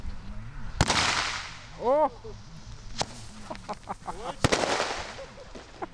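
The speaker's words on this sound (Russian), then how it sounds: "И тут же вполне сертифицированная римская свеча дает осечку." A certified Roman candle firework misfiring outdoors: sharp, loud cracks at irregular moments with hissing bursts and crackle between them, while a voice gives a brief exclamation.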